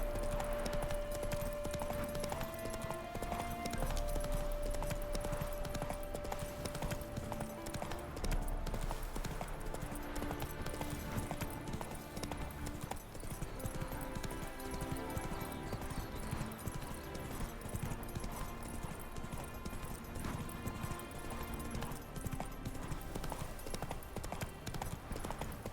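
Horse hooves trotting in The Witcher 3, a steady rhythmic clip-clop throughout, moderately quiet under faint game music with an occasional voice.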